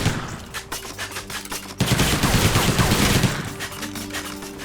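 Rapid bursts of rifle gunfire in a stealth-action video game crackle loudly and continuously, with dense automatic volleys and sharp echoing reports, no speech.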